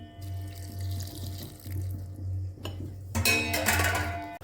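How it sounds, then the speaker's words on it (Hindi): Water runs from a tap into a vessel of ground rice with a steady splashing stream, rising to a louder, brighter gush toward the end. "इसमें मैं अभी 1/2 कटोरी पानी ऐड करूँगी"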